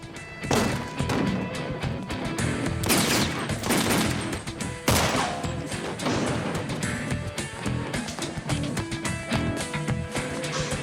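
Gunfire breaks out in a city street, with sharp bursts and crashing impacts over a dense, loud dramatic soundtrack.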